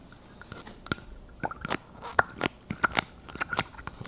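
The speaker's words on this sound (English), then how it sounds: "We hear some bubbles." A Sheaffer 330 fountain pen draws up blue ink, giving a scattered run of small, close bubbling clicks and wet pops, irregular and fairly quiet, with no talk.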